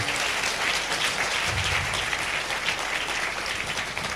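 Applause from a church congregation during a Sunday sermon, a steady, moderately loud wash of clapping lasting a few seconds with no voices over it.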